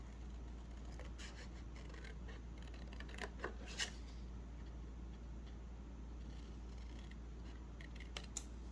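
Scissors snip through paper for an Easter bunny treat box, giving faint, scattered cutting clicks over a low steady hum, quiet and close without any talking.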